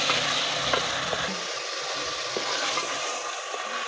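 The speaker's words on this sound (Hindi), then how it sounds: "प्याज हल्का ब्राउन हो चुका है और अब हम पेस्ट डालेंगे अदरक लहसुन का।" Onions fry in a pan with ginger garlic paste, giving a loud, steady sizzle with occasional stirring scrapes, close up and without any talking.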